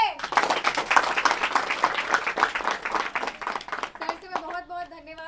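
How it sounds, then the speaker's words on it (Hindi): Loud audience applause for a guest speaker at a Hindi-language gathering, dense and sustained for several seconds before fading as a voice and a bright tone take over. "पहले तो जोरदार ताली हो जाए हमारे अकील सर के लिए।"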